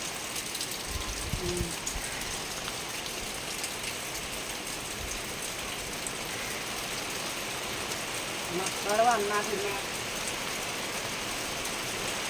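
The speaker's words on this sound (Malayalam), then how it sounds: "എന്താ മഴ എന്തൊരു മഴ" Heavy rain pouring down steadily in a dense, constant wash of drops on surfaces, with a voice talking briefly over it near the end.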